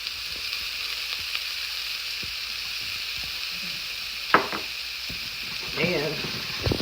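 Shallots sautéing in a hot pan give a steady, close hiss and sizzle, with a few soft clinks of stirring and a brief voice near the end.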